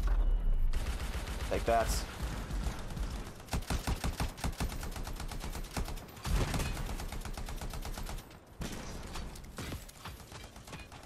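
Rapid weapon gunshots in the video game Anthem crackle in dense bursts, some fast rhythmic volleys and short pauses between, loud and near, with a brief spoken remark mixed in.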